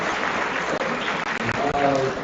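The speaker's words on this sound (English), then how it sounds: "So a big round of applause for them also." Applause from the audience at XIM Bhubaneswar's annual entrepreneurship summit, a dense crowd clapping that fills the space for a couple of seconds, with a few brief dips in the noise.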